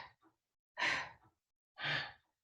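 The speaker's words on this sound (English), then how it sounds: "forceful exhale" Two strong, close, breathy exhales during yoga breathing, each about half a second long and roughly a second apart, after a fainter breath at the start, with no talk.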